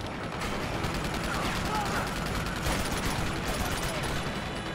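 Rapid machine gun fire in the Uncharted 2 siege, a sustained burst of shots mixed with battle noise, with a voice speaking Spanish over it.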